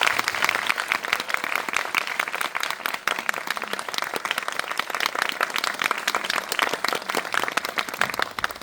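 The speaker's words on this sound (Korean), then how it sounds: "큰 박수로 환영해 주십시오." A cinema audience at a film screening talk applauds to welcome the directors, many hands clapping in a dense, steady roar that holds for several seconds without letting up.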